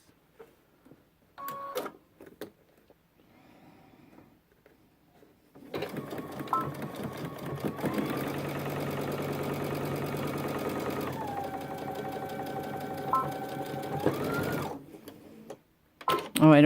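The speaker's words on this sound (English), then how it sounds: "So I'm going to sew down the sides, 1/4 of an inch." A sewing machine stitches down the sides of a backpack bottom, a loud, close, continuous mechanical whir lasting several seconds, with brief pauses and faint clicks before it starts.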